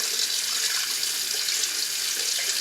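Water running steadily from a tap, lightly rinsing bentonite clay product out of hair; a continuous, even hiss of flowing water close by, alone without any talk.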